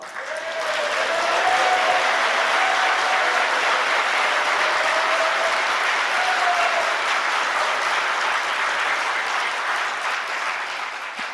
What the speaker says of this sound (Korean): 박수가 적어.